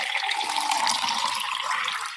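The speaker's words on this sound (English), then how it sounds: "she put some warm, soapy water into a large wooden basin" A steady stream of water pouring and splashing into a basin, close by, continuous throughout.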